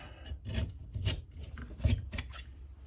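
A flat-blade screwdriver scrapes and pries at a broken wooden axe handle wedged in the axe head, giving a run of close, rasping scrapes in irregular bursts.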